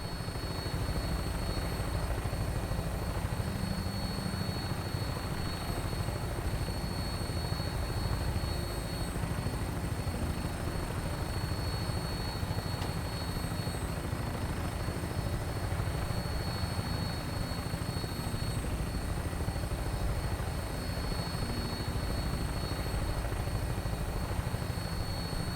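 A Fallout 4 aircraft on final approach to an airport gives a loud, steady engine and rotor drone that stays constant for about 25 seconds with no voices.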